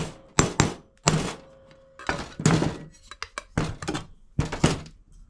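A centre punch is struck repeatedly against a part for a Norton motorcycle side-mount number plate. About eight sharp, close metallic thunks land at an uneven rhythm, separated by brief pauses.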